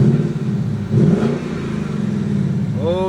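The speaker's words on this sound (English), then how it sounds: "Just gonna give it a little interior rev." Ford Mustang GT V8 revved from inside the cabin, a deep engine note that rises in a quick rev, dips, then surges again and settles into a steady throaty drone near the end.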